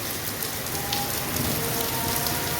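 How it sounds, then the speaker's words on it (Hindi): Heavy rain pours down in Sialkot, Pakistan, a dense, steady hiss of drops striking surfaces that fills the whole stretch without pause, with no voices. "एकदम जो है ना स्पीड तेज़ हुई है बारिश की।"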